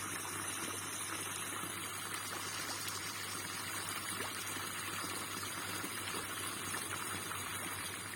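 Water filling a lotus plant tub, a faint, steady rushing trickle with a constant low hum beneath, continuous and even from start to finish.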